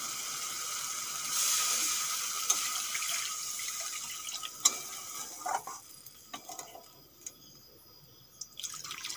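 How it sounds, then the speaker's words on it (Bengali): Water poured into a pan of fried spices for a Bengali raw fish curry sizzles and hisses loudly at first, then settles into steady bubbling with occasional drips and clinks. "এখন দিয়ে দেব জল।"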